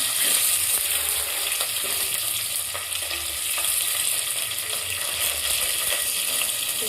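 Ground coriander paste and curry leaves frying in hot oil with a pinch of asafoetida for kadhi pakora, a loud, steady hiss of sizzling close up with faint stirring, no voices.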